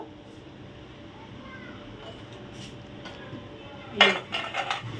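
Cake tins, one half-pound and one two-pound, being handled while greased with oil, with a quiet stretch before a burst of metallic clattering and knocking near the end.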